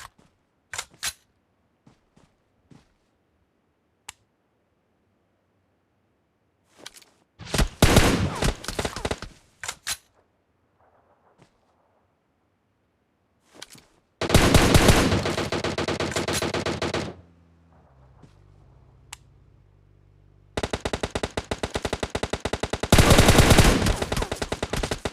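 M4 rifle gunfire in PUBG Mobile, with scattered single shots and then long loud automatic bursts that come in three heavy stretches of rapid fire, split by quieter gaps and a low droning pause.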